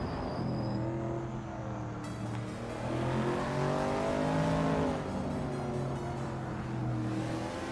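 A 1970 Ford Mustang Boss race car engine in a racing video game, a steady, loud, droning roar with layered harmonics that climbs in pitch and then eases off, heard alone with no voices.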